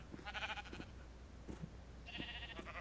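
Sheep in the block-building game Minecraft bleat several times, with wavering nasal calls in close bursts separated by brief pauses over a faint background hum.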